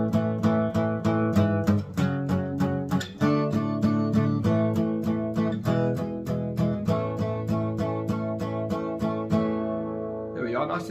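Guitar playing the intro of a song, a brisk rhythmic run of strummed chords and picked notes at an even pulse, close and clear, ending on a sustained ringing chord.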